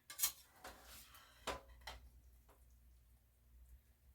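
Aldi turkey ravioli is scooped from a dish with a utensil, making a few quiet scrapes and clinks of metal against the dish, with one sharper knock in the middle and a faint room hum behind.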